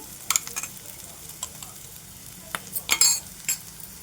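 Masala powder added to a hot oil tempering and stirred, giving a soft steady sizzle with scattered scraping and clinking strokes of the spoon, loudest near the end, with no talking.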